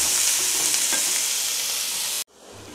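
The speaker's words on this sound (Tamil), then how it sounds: "மிச்சம் 4 வெங்காயம் இதில் போட்டு வதக்கிக்கிறோம்." Onions for mutton chukka sauté in a pan with a loud, steady sizzle and hiss. The frying breaks off abruptly near the end, leaving quiet room tone.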